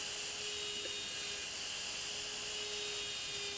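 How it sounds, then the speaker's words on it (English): A rotary tool fitted with a conical carbide bit textures a wooden ring, giving a steady, high, drill-like whine that holds constant throughout at moderate volume. "For this ring, I'm going to use a conical shaped carbide bit."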